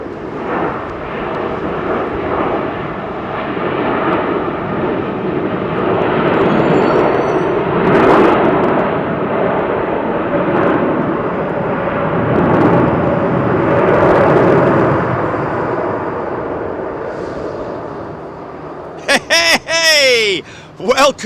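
An Aeromexico Boeing 787 Dreamliner lands with heavy reverse thrust, a loud sustained roar of jet engines swelling and holding for most of the time before cutting off abruptly near the end, with a voice talking over it.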